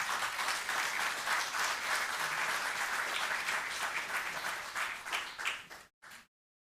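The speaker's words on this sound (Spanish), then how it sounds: "con un gran aplauso vamos a invitar" A church congregation at an evening Bible seminar welcomes a music group with loud, sustained applause. The clapping stays dense and even for several seconds, then thins out into a few scattered claps before stopping abruptly into silence.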